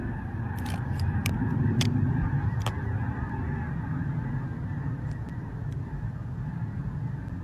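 A large flock of geese honks continuously at a distance, a dense layered chorus of calls over steady background noise, with a few sharper individual honks standing out.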